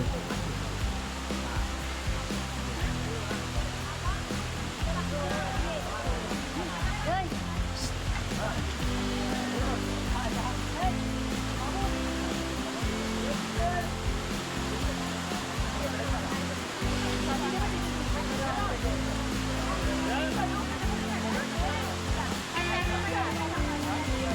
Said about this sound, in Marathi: गड चढत असताना वाटेत अनेक लहान मोठे धबधबेसुद्धा आहेत